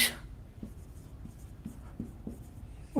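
Marker or chalk writing an example sentence on a board in a classroom lesson, with soft scratchy strokes and light taps in an irregular rhythm, heard fairly close with no talking over it.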